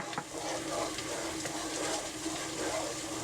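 Cheese being stirred into a thickened butternut squash sauce in a pot over low heat, a steady wet, soft churning with faint sizzling and scraping that carries on for a few seconds.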